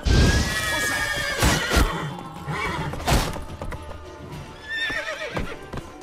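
A horse in the game The Witcher III whinnies loudly and close amid hoof clip-clops and heavy thuds, with a game-like clatter and a second shorter neigh near the end.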